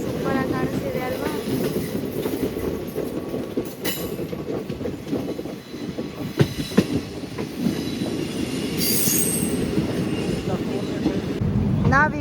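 A passenger train on the Mysuru–Bengaluru route rumbles steadily along the rails, with rhythmic wheel clatter, rattling carriages and a brief high wheel squeal partway through, all loud and continuous.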